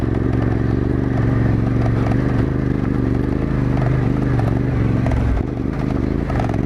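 A Yamaha Tenere motorcycle on Dunlop D908 Rally Raid tires rides over deep gravel, with a loud, steady engine drone and continuous crunching, clattering stones close by.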